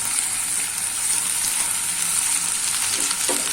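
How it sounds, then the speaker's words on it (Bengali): Onion, garlic and ginger paste frying in hot oil in a pan gives a steady, close sizzle, with a few scrapes of stirring near the end. "ভাজা ভাজা করে নিব। ভালোভাবে ভেজে নিয়েছি।"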